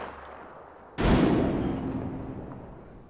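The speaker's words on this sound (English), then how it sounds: "Launching frag." A frag grenade explodes in the video game Apex Legends with a sudden loud boom that rolls off into a long decaying rumble, and faint high chirps come in near the end.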